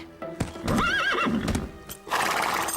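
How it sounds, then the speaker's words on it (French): Nervous cartoon horse whinnying loudly in a wavering neigh, with hoof clip-clops and snorting around it, close and alone without talk. "Ce cheval est vraiment magnifique."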